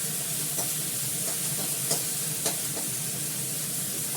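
Fenugreek greens (methi shak) frying dry in a pan, a dense, loud, continuous sizzle close by with faint intermittent stirring scrapes, no voices.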